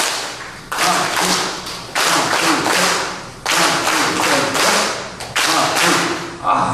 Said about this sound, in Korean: 박수는 로타리 행복 박수 시작!